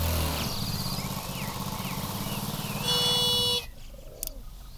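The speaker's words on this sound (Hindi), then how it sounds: "हॉर्न बजा रही है, लगता है वो आ गई है।" A car horn sounds in short repeated toots over a rumbling engine and background music, then a longer, steady honk cuts off abruptly into quieter ambience.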